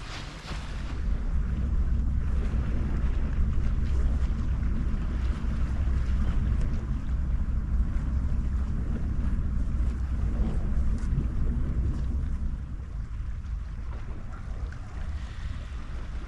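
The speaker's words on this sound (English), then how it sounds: "The bad news is that we got an easterly wind." An easterly wind blows on the coast during sea fishing, buffeting the microphone with a steady, loud low rumble that eases slightly toward the end.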